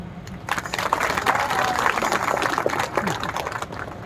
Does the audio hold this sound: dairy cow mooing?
no